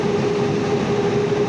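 A Valley Metro light rail train in Tempe rolls past, a steady close rumble with a faint tonal whine held throughout.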